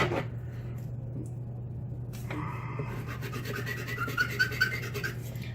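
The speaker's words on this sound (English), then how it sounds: "we still have to sand that, so let me do that real quick" Quiet rubbing and rasping as a snapped-off part of a handmade challenge lock is sanded smooth, a steady faint scraping over a constant low hum, with no voices.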